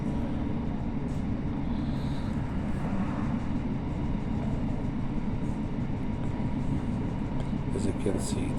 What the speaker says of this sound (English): As you can see, this is a cargo train.